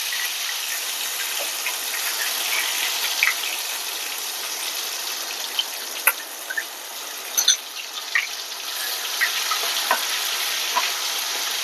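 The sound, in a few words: ginger garlic paste sizzling in hot pickle oil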